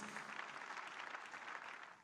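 Applause from a church congregation at a healing service, a dense, steady wash of many hands clapping together for about two seconds before easing off at the end.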